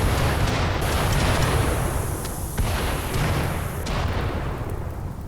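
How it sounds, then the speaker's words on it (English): A chemfuel barrel trap explodes in Rimworld: a loud, sustained roar of blasts and booms with repeated bursts, rumbling heavily throughout before easing slightly at the end. "Sensing that the enemy wishes to flee, the explosion races after them, denying them any escape from their fiery demise."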